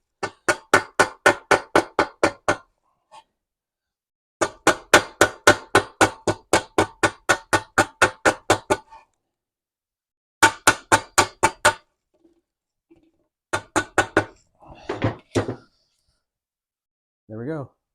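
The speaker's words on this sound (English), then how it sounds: "Just get your little rubber mallet somewhere flat." A rubber mallet taps an aluminum belly tank lip in quick rhythmic bursts of sharp knocks, several runs of a dozen or so hits separated by pauses, with brief murmurs near the end.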